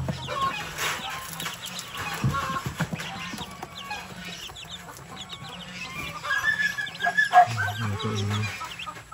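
Six-day-old chicks peep and cheep continuously at close range on a farm, with hens clucking lower underneath and a few brief louder calls near the end.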